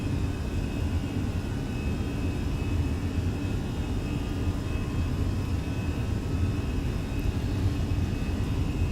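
The jet engines of an Airbus A320 roar steadily during a takeoff roll in Microsoft Flight Simulator. The broad, even engine noise keeps a faint high whine and a rumbling low end throughout.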